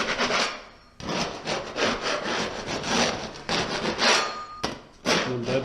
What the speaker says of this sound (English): I'm going to use 5-minute mud. So I'm going to mix that up by hand.